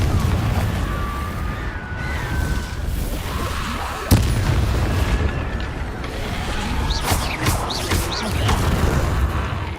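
A Confringo explosion spell in the Hogwarts Legacy video game sounds as a sharp blast partway through, over a loud, dense bed of rumbling game effects and music, with several softer thuds and crackles following.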